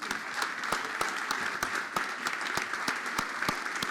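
A room of people at the Watertown inauguration ceremony applauds the town council, a steady, full wash of clapping with sharp individual claps standing out throughout.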